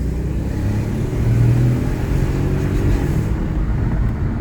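An Audi A8 4.2 V8 engine rumbles steadily at close range, revving a little as it runs, with a low throaty drone throughout.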